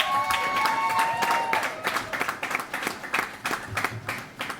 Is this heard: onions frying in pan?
no